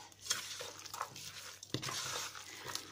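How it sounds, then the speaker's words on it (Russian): Pilaf is stirred inside a multicooker pot, giving faint, quiet scrapes and light clinks of a utensil against the bowl, with one sharper knock partway through. "Опять все это дело мы перемешиваем"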